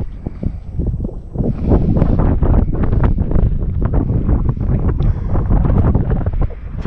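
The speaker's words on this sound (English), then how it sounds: "If it wasn't so windy" Strong wind gusts blast into the microphone outdoors at a former flight training field, a loud rumbling, buffeting roar that surges and flutters continuously without a break.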